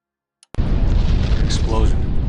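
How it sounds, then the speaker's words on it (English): A big explosion in the L.A. Noire video game bursts suddenly after near silence, then rolls into a loud, sustained rumbling roar lasting about two seconds. "Explosion."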